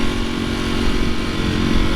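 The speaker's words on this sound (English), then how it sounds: "we are out here riding the Ducati SP V4 SP 2021" Steady, loud engine drone of a 2021 Ducati V4 SP motorcycle being ridden, a continuous buzzing roar with no breaks, close to the microphone.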